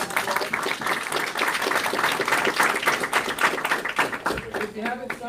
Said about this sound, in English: make sure to give a round of applause